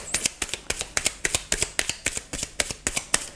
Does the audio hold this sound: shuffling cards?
yes